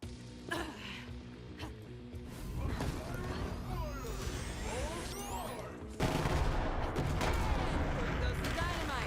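Chained grenade explosions in the video game Borderlands 3 during a grenade-focused Moze build: dense overlapping blasts, crackling bursts and whooshing effects layered over game music, growing louder toward the end.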